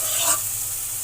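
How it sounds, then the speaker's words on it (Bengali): Ground chili, coriander and turmeric powder with salt fry in a pan, a short stirring scrape followed by a steady, soft oil hiss close by. "এবারে মশলাটা আমি ভালো করে কষিয়ে নেব"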